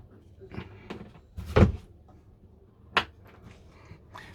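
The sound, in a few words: motorhome interior door closing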